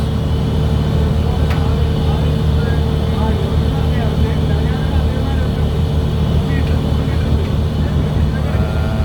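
Anchor machinery runs on the deck of a ship, giving a loud, steady mechanical drone with a low hum that holds without a break, and faint voices sit underneath.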